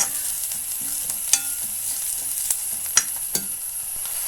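Meat and green chillies frying in a pan for mandi, with a steady close sizzle and a few sharp clinks and scrapes of a spoon against the pan, no voices.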